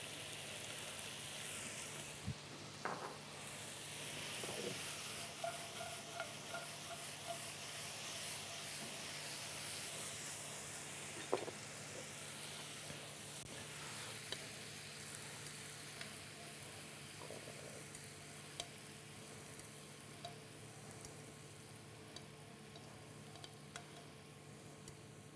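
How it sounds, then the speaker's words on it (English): Cucumber with chopped cashew nuts and sauce sautéing in a pan: a steady, close sizzle and hiss throughout, with occasional clicks and scrapes of stirring, no talk. "And there we have some just sauteed"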